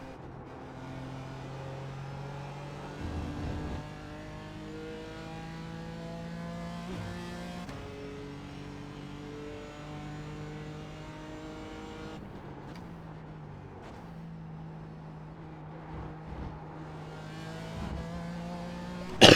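A BMW M4 GT4 race car laps Watkins Glen, its engine revving up and down through gear changes with a strong tonal drone, rising pitch sweeps and brief dips between shifts, close and continuous without talk.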